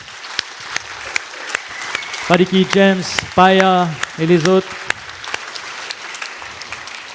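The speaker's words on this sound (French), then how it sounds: "on peut applaudir l'équipe technique s'il vous plaît" An audience applauds the technical team with a steady patter of many hands, and a voice briefly speaks over the clapping midway before it carries on alone.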